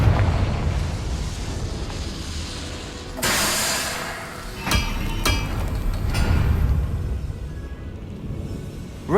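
A Confringo spell blast in Hogwarts Legacy on PS5, a bright burst followed by a couple of sharp cracks and a rumbling tail, close and loud over a steady ambient background.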